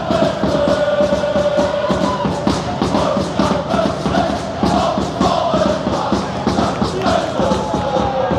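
MVV football fans cheer and chant loudly at half time in a Dutch stadium, a dense continuous roar of many voices with rhythmic claps and thumps.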